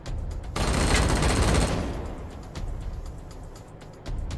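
A heavy volley of gunfire from the video game Wasteland 3 roars up loudly, then fades into a rumbling tail, with a few sharper single reports following near the end.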